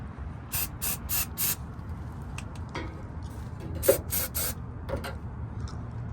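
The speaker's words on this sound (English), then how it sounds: "Spraying on." Rust-proofing coating sprayed onto a truck undercarriage from an aerosol can, a series of short sharp hissing bursts, four in quick succession, then a few more after a pause, close and fairly loud.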